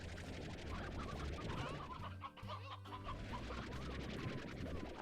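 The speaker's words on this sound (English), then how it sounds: "Wild chickens roaming about." Wild chickens in the Slime Rancher game cluck steadily and close by over a busy, continuous game soundscape, with a brief dip partway through and no talking.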